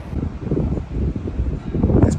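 Gusty wind buffets the microphone outdoors with rumbling, uneven bursts and a faint rustle, no voices.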